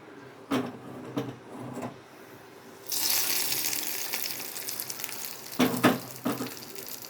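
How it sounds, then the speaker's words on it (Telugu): Hot oil sizzles loudly as a tempering is added for gongura and green chili chutney, a bright hiss that starts abruptly partway through and holds steady, with a few sharp clinks of a utensil before and after. "ఇప్పుడు తాలింపు వేసుకుంటున్నాం"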